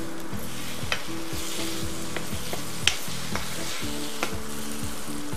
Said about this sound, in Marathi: आता आपण त्याच्यामध्ये काजू घालूया.